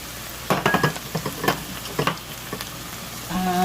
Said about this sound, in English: it's been 2 minutes of sauteing on its own here with the onions